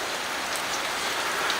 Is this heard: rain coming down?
yes